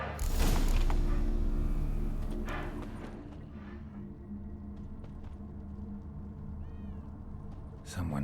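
A cat in The Witcher 3 gives a loud, drawn-out meow at the start, then a few softer meows follow later over quiet ambient sound and a low rumble.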